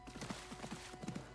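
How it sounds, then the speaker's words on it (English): A horse's hooves clip-clop at a steady trotting rhythm in the Assassin's Creed game, quiet and moderately distant, with no talking. "I'm going to use this horse because it's just easier and quicker."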